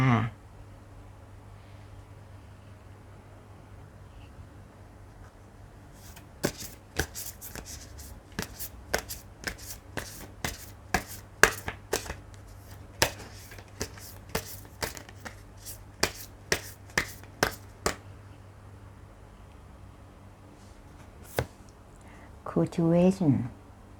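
Tarot cards are shuffled in a long run of crisp, rapid riffles and taps after a quiet start, with brief handling noise close by at the very end.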